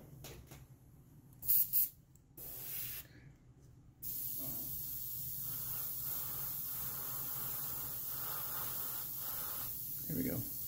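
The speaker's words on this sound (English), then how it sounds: "I think I need to airbrush that tip just a little bit. I'm gonna do that." Airbrush spraying paint onto the tip of a 1/6 scale figure, short bursts of hiss at first, then a steady continuous close spray that runs for the last several seconds.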